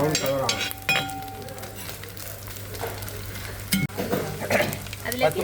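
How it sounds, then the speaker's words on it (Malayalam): Coconut pieces frying in oil for Kerala chemmeen theeyal, a crackling sizzle with stirring scrapes and occasional clinks of a spoon on the pan, with a voice speaking at times. "ഇത് വറുത്ത് കൊടുക്കാം."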